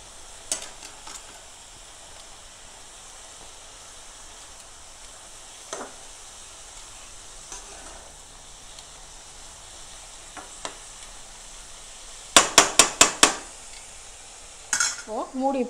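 Cabbage poriyal frying in a pan, a soft continuous sizzle broken by occasional light scrapes, then a quick burst of sharp metallic stirring clatters near the end followed by more scraping.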